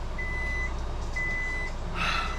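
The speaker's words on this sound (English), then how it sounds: "My timer went off for my pressure canner." A pressure canner timer going off in a home kitchen, two long steady electronic beeps followed by a brighter chirp, close over faint background hum.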